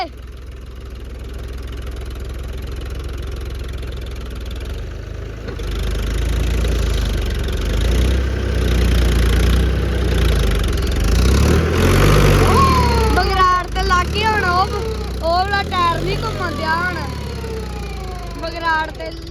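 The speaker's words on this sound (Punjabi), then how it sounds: "ਹੁਣ ਟਰੈਕਟਰ ਨਾ ਹੀ ਗਾੜੀ ਜਾਂਦਾ ਨਾ ਹੀ ਪਿੱਛੇ ਜਾਂਦਾ" A tractor engine runs steadily with a low rumble throughout, during wheat sowing with a faulty tractor that will not move forward or back, and people talk over it near the end.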